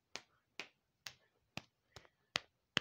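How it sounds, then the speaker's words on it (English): Seven sharp, evenly spaced slaps made by feet clapping together over a tablet in a silent room, each crisp and close with a quick decay and quiet gaps between. "that's me clapping with my feet over my tablet"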